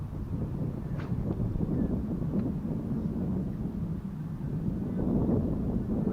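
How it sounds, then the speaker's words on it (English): Wind buffets an outdoor microphone while crappie fishing, a steady low rumbling roar that runs through the whole stretch with small gusty swells and no talking. "That wind picked up."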